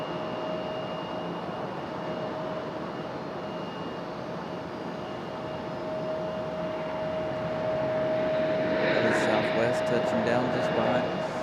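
A plane touches down on the runway at Raleigh-Durham International Airport, its steady broadband engine roar building louder toward the end, with a faint tone running through it.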